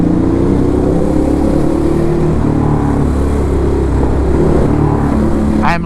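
A Ducati Hypermotard SP fitted with an SC Project exhaust rides through New York City traffic while lane splitting, its engine droning loud and close throughout with shifting pitch and a sharp rising sweep near the end.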